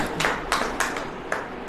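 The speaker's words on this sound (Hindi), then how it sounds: "ताली बजाओ।" A church congregation claps in unison during a sermon, five or so sharp, evenly spaced claps in a quick steady rhythm over a faint room hum.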